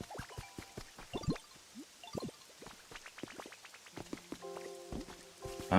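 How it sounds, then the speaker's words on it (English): Rain in the Pokémon Pokopia video game, heard as scattered, distinct drips and plinks at an irregular pace, with occasional soft tonal chimes from the game layered underneath. "Look at this rain. It made the whole place come alive."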